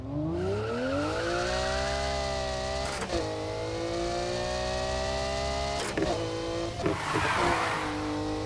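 A 2010 Lamborghini Murciélago engine in NFS Heat holds a loud, steady drone with rising pitch as it revs. Two quick gear-shift dips break the tone and tire noise swells near the end.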